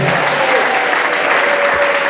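Applause rings out at a morning prayer service as a congregation acclaims Jesus, steady dense clapping filling the room throughout with a faint tone running beneath it.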